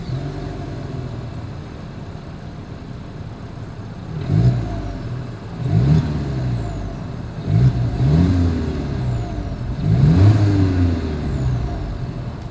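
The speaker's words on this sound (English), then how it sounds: "As always, here is that exhaust clip." Exhaust of a 2023 Volkswagen Jetta revved over a steady idle: four separate throttle blips rise and fall a couple of seconds apart, close and moderately loud, with no talking.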